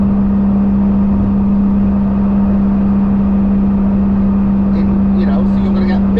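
Diesel-engined Toyota MR2 cruising at a steady 70 mph around 2000 RPM, a constant low engine drone with road noise filling the cabin, loud and unchanging throughout.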